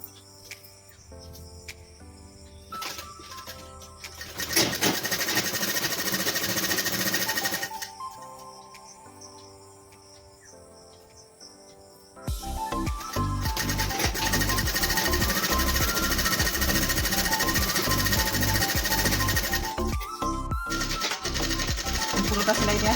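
A sewing machine stitching a nightie: a steady, fast mechanical whir in a long run, a quieter pause, then a louder continuous stretch of stitching close by.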